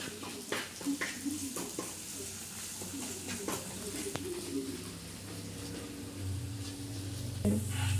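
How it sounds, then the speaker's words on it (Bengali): Ginger-garlic paste and green chili paste are stirred as they fry in a pan, giving soft scraping and light sizzling, with scattered clicks and what sounds like pigeons cooing in the background. "এবার আমি ভালোভাবে নেড়ে নেব"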